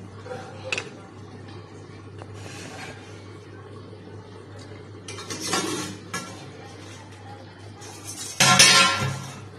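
A lid lifted off a covered pot of paneer curry in a home kitchen, giving a few clinks and a louder metallic rattle near the end over a steady low hum, with no talking.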